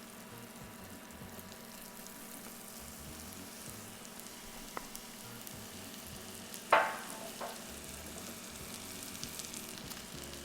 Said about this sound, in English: And I'm gonna saute this for about 5 minutes or however long it takes for my onion to saute.